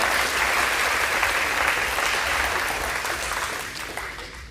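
A banquet hall crowd gives a senior athlete a round of applause, dense sustained clapping that gradually tapers off toward the end.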